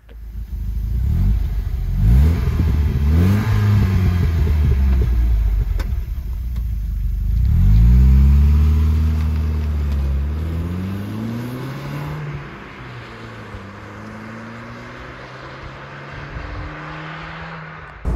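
A 1991 Mercedes 190E 2.3 W201 being driven, its four-cylinder engine droning and rising through several gear changes with sweeping revs, heard loud from inside the cabin, settling into a steady cruise.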